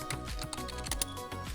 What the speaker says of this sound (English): and then we can type our lesson notes here